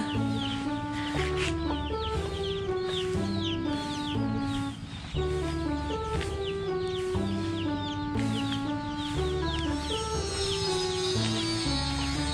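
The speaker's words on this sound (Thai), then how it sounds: "เลี้ยงไก่ เลี้ยงไก่ในนี้ค่ะ" Many chickens cluck and chatter continuously nearby, a busy overlapping flock of clucks with no talking.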